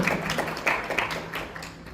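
Brief round of applause from an audience at an AI education event, a mix of distinct close claps over a softer crowd of clapping, tapering off.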